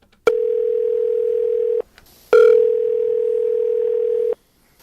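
A telephone call goes unanswered: a loud, steady ringback tone sounds twice, each long and even, separated by a short gap, close and clear with no talking.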